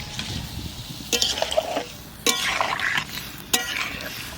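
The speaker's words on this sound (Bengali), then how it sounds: "এবার তরকারিতে যে পরিমাণে জলটা লাগবে দিয়ে দেবো। অল্প জল দেবা, অল্প অল্প" Water is added a little at a time to a village-style cucumber and climbing perch fish curry, with three brief pouring splashes and a faint sizzle from the pan in between.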